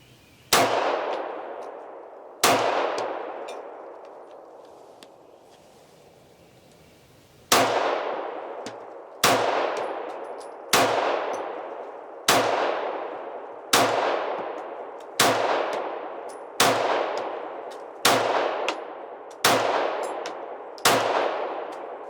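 About a dozen sharp, loud pistol shots from a Smith & Wesson Equalizer fed from a 13-round magazine. They come at a steady pace of roughly one every one to two seconds after a longer pause near the start, each ringing out briefly with no talking.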